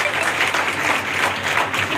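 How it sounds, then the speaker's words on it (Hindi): A crowd at a ceremony claps steadily and loudly in a continuous burst of applause for a student, with no break in the sound. "एक बार जोरदार तालियों से इसका स्वागत करें"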